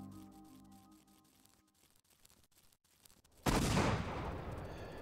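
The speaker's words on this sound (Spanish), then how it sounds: "Y ahora sí que va a haber una explosión de verdad." A sudden loud explosion in the Tomb Raider video game bursts in after quieter ambience and music, then rumbles on with a broad, sustained roar.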